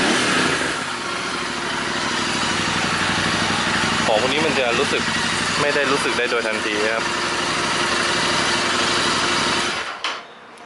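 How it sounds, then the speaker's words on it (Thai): Royal Enfield Interceptor 650 twin idling and revving with a DNA aftermarket air filter, a loud, steady intake and engine drone that swells with throttle blips, someone talking over it, then abruptly cutting off near the end. "เสียงดูดอากาศแรงกว่าเดิมพอสมควรนะ"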